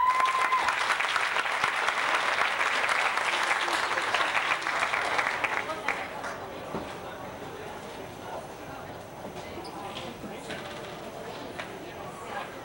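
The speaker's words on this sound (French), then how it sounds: "Donc on les applaudit." Audience applause at an evening show in Rivière-Rouge, dense clapping for the first five seconds, then fading to scattered claps and murmuring with a voice.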